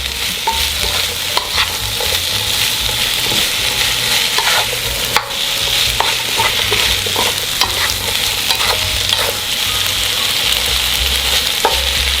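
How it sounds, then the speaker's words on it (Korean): Zucchini and chili flakes stir-fry in a pan over medium-low heat, a steady close sizzle with repeated scraping and clinks of a utensil stirring throughout, no voices. "고춧가루가 탈 수 있기 때문에 중간 불이나 약한 불로 왔다 갔다 하면서 볶아주세요"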